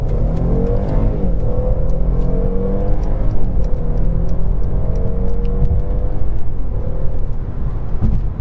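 A 2019 Mercedes-Benz S450 W222 accelerates hard, its engine note rising in a smooth climb through close-spaced gear changes, with a loud, steady cabin rumble throughout.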